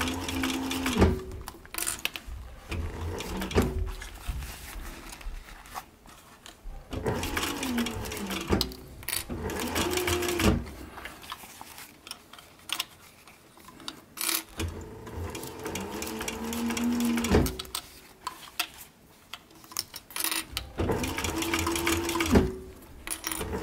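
Sewing machine stitching a seam on a short brim cap, running in several bursts of rapid mechanical whirring separated by short pauses and handling noise, close and fairly loud.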